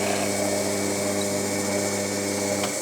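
A steady, continuous whir from a pillar drill running a brad point bit through a workpiece, holding an even level throughout with no talk.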